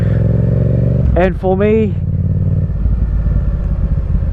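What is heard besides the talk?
Yamaha MT07 motorcycle engine and exhaust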